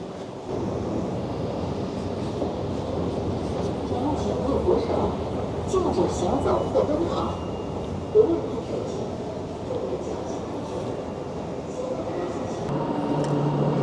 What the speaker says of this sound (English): The train is arriving now